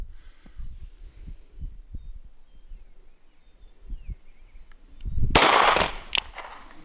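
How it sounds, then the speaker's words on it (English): A SIG P290 9mm handgun fired into a washing machine: a single sharp, loud shot after soft handling thumps, with a brief metallic ring and a small second crack as it dies away. "Here I've got a SIG P290. It is a 9mm."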